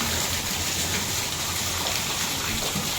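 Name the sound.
heavy rain and strong wind storm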